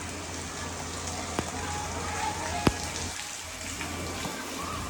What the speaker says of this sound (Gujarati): વરસાદનું જોઈ લો કેમેરા ઉપર છાટા પડે